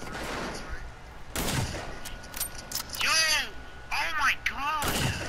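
Gunfire in the online military shooter America's Army, bursts of shots cracking across a busy battlefield soundscape, with several loud impacts and ricochet-like whines, mixed under voices talking.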